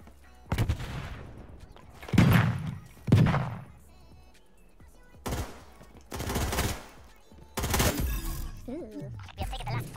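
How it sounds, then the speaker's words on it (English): Gunfire in a video game gunfight, heard as several sharp bursts spread across the moment, some in quick clusters and one longer volley, with voices talking in between. "Why is he shooting through the wall?"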